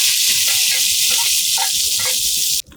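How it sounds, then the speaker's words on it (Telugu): Dried nethili fish fry in a pan with a steady, loud, close sizzle that runs unbroken and then cuts off abruptly at the end. "ఇలా మంచిగా వేయించుకోవాలి దోస్తులు. దీనికి ఉన్న స్మెల్ అంతా పోయేంత వరకు."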